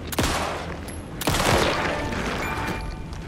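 Two heavy, booming gunshots in the video game Alan Wake 2 ring out about a second apart, each followed by a lingering rumbling tail.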